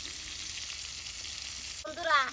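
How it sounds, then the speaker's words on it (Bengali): Fish frying in a pan gives a steady, close sizzle for about two seconds, followed by a brief shift into a louder tonal sound near the end. "আমার এখন মাছ ভাজা হয়ে গেছে গা"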